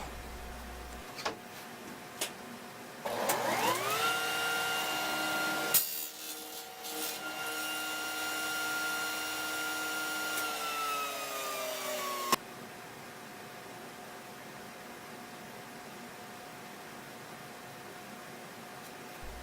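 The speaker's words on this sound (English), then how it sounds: "Next, I'll make a test cut on a piece of scrap." A table saw fitted with a box joint jig on a sled spins up with a rising whine, makes a test cut through scrap wood, then winds down with a falling tone before quiet shop ambience.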